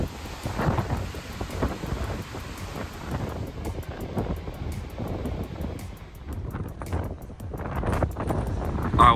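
Strong wind blows across the open deck of the Cunard liner Queen Mary 2 at sea, roaring and gusting loudly and continuously with heavy buffeting against the microphone.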